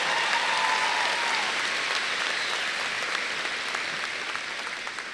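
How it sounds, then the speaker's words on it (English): An audience applauds at the 2022 South Garland High School graduation ceremony, a dense and steady wash of clapping that fades slightly toward the end. "Let's give them a big round of applause."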